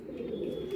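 A single soft, low coo from a flying pigeon kept by a fancier, brief and close, alone without any talking.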